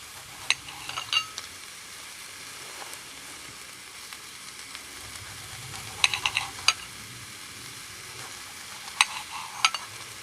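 A hamburger patty sizzles on an extended grill plate over an adjustable fire grate, a soft steady crackle with scattered sharper pops and occasional scraping clinks, fairly quiet and free of speech.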